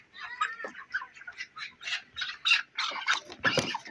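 Twenty-four-day-old broiler chickens at a poultry farm cluck in a close, busy run of short rhythmic calls, with no voices over them.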